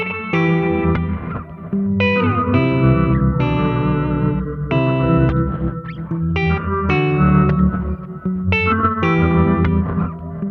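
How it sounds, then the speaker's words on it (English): Chase Bliss Audio Dark World reverb pedal processing a guitar with an octave blended into the reverb, sustained chords and notes swelling into a lush, shimmering wash with long decaying tails, loud and alone. "Turning the knob up past noon starts to blend in an octave up."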